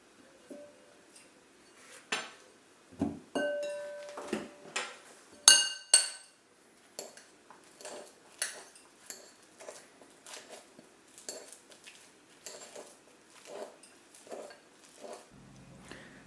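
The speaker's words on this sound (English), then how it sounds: "I'm just going to peel that and mash it with the back of a fork" A fork mashes a peeled banana in a bowl, giving irregular metallic taps and clinks against the dish with soft squishing between strikes, close and clear with no voices.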